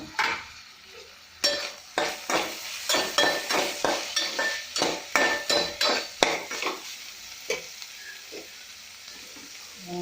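Mixed vegetable curry with onions, green chillies, cumin and carrot cooking in oil in a pan, a soft sizzle under a steady run of close spoon scrapes and stirring clinks against the pan.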